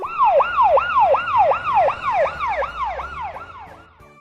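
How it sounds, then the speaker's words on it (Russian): A police car siren wails in a rapid, repeating rising-and-falling pattern, about a dozen loud cycles in close succession before it fades out at the end. "Полицейская машина."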